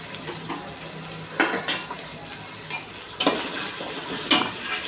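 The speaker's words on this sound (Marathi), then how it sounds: "टोमॅटो सोबतच आपण फ्लॉवर आणि भिजवलेले हरभरे टाकणार आहोत, म्हणजे तेही परतून निघतील टोमॅटो सोबत।" Tomato, cauliflower and soaked chickpeas sautéing in a pan, a soft sizzle under a few sharper scrapes and clatters of a spoon against the pan, close and moderately loud.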